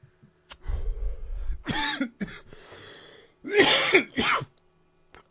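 A few harsh coughs and throat-clearing bursts, close and fairly loud, separated by short pauses and breaths.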